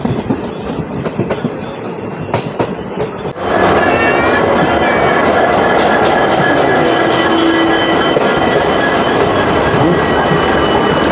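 A DEMU passenger train on the Agartala–Karimganj line pulls into Jirania station, rumbling and clattering over the rails, then swells into a loud, steady roar with a brief squeal partway through.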